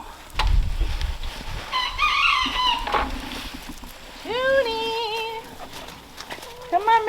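Chickens on a homestead cluck and crow nearby, with a few drawn-out calls over faint background noise.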